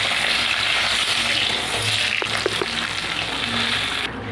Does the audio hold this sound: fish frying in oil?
yes